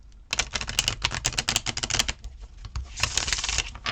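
A Light Seers tarot card deck being shuffled by hand, giving a rapid, dense run of crisp flicking and riffling card sounds that carries on steadily for several seconds, close and fairly loud with no talking.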